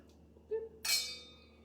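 Wine glasses clinking in a toast, a single faint, bright chime that rings and decays in a quiet kitchen, preceded by a small soft knock.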